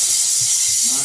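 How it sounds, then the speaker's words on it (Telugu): Tempering spices for sambar sizzle in hot oil, a brief, steady broadband hiss with a voice talking over it. "తాలింపు."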